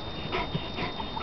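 A kuvasz puppy pants close by in short, quick breaths, brief and unaccompanied by talk.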